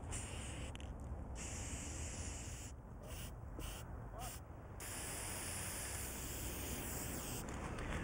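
Close, steady hiss of an aerosol spray can firing in long bursts, broken by a few short pauses.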